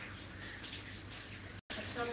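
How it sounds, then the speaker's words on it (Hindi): Tap water runs steadily and softly into a sink as hands are washed in a home kitchen during meal preparation, a continuous low gush with a brief cut near the end. "हाथ धो के आओ"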